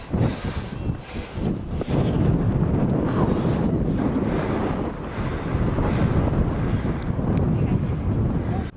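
Strong, steady wind buffets the microphone at the top of a hiking trail near Ella, Sri Lanka, a continuous roaring rush that gusts louder for most of the clip.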